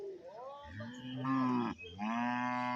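A cow at a cattle market moos in a long, loud, drawn-out call with a rising and falling pitch, breaking briefly before a second strong bellow, close by with no talk.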